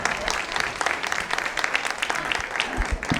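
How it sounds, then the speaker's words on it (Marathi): Audience at a family clan gathering on stage applauding, a dense, steady burst of many hands clapping close by throughout. "आपण मंचावर उपस्थित सर्वांसाठी टाळ्यांचा मोठा कडकडाट करूया."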